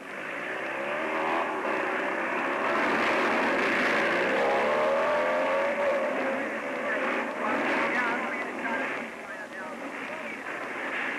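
A group of racing motorcycles, including a Triumph TR6, roars off the start line of the 1957 Catalina Grand Prix, a dense continuous engine roar that swells and holds, with a voice speaking over it.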